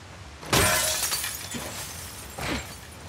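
Glass shatters in The Last of Us Part II video game, a loud burst of breaking shards near 0.5 seconds, with a second, softer crash and scattering fragments about two seconds later, no voices.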